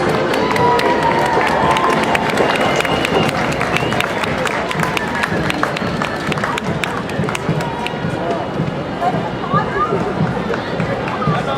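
A large crowd lining a New York City German-American parade street cheers and claps loudly and continuously, with shouts and chatter mixed in throughout.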